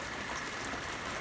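Light rain falls outdoors by a pond and pasture, a soft, steady hiss of drops that holds even and quiet throughout, with no voices.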